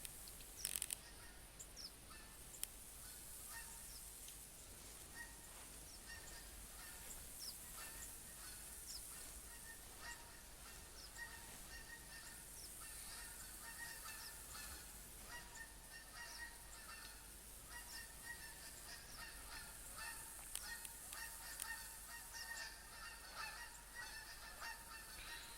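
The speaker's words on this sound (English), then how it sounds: "Got plenty of roe deer, Canada geese. They make a lot of noise," Canada geese honk repeatedly in the hunting video game theHunter, faint scattered calls over a steady low background hiss.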